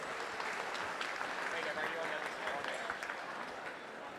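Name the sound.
applause for sheep shearing competitors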